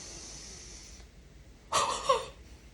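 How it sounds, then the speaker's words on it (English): A single forceful open-mouth huff, a short airy exhalation done as an airway clearance exercise with a vibratory positive expiratory pressure device, close and isolated after a quieter hiss in a calm room. "do a couple of rounds of huffing"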